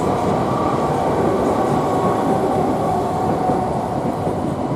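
Loud, steady rumble of a train running at Stratford station, a continuous heavy rail roar with no voices over it.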